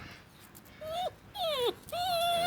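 A Kangal puppy whimpers close up in three drawn-out, high whiny cries, each rising and falling in pitch, with short pauses between, in a garden.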